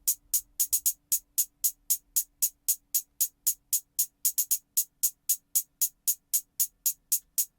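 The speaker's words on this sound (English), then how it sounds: "the wide hat, and I just did like a basic hi-hat pattern with it." A basic hi-hat pattern made from a wide hat sample in a beat, with crisp, bright hits in a steady, fast rhythm and occasional quick doubled hits, heard alone and up front.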